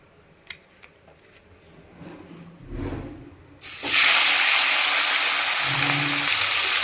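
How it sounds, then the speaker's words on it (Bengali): A rita fish head goes into a hot pan to fry for kalia. Soft kitchen knocks come first, then a sudden loud, steady sizzle starts midway and roars on unbroken to the end. "একবারে দিয়ে দিয়েছি ভাজা হোক"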